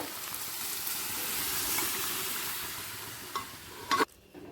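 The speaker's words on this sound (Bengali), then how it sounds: "ডালের সাথে মশলাটা মিশিয়ে নিলাম" Spices being stirred into boiled, mashed dal in a cooking pot, a soft continuous hissing sizzle with light scraping, ending in a couple of sharp knocks of the utensil.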